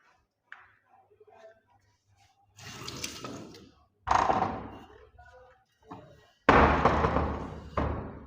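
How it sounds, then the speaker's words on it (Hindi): A door bangs over and over indoors, giving several loud, sharp thuds and rattles at irregular intervals with quieter knocks and shuffling between them. "दरवाजा बार बार आवाज दे रहा है"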